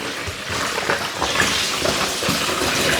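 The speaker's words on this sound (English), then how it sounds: "I'm just dumping in another 2 to 3 litres of hot water out of the tap" Hot tap water pours steadily into a plastic brewing bucket for a homebrew IPA kit, a continuous close splashing gush that holds for about three seconds with no talk.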